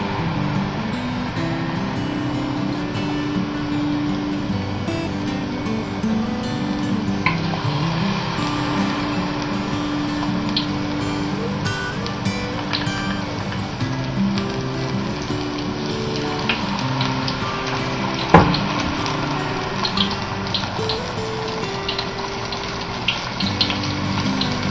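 Tempura vegetables frying in hot oil, a dense, continuous bubbling sizzle heard up close for a long stretch, with occasional clinks and a brief sharp knock partway through.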